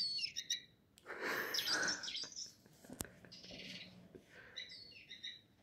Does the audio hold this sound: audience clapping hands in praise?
no